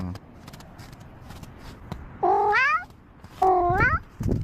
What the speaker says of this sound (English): Kitties are playing in the snow.